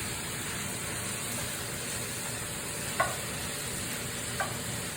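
Food stir-fries in a wok at home, a steady close sizzle and hiss with a couple of faint clicks from the utensil against the pan, no voices.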